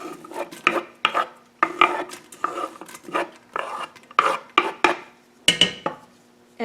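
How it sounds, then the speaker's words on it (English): Chopped onion sizzling in coconut oil in a preheated pan, heard as a run of short, fairly loud scraping and frying bursts as the pieces are pushed around, with brief pauses between strokes. "I'm going to go ahead and put in the chopped onion."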